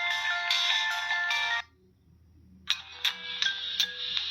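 Two bursts of a shrill electronic ringtone from an old mobile phone, the first stopping after about a second and a half, then a brief quiet gap before the melody resumes with pulsing notes.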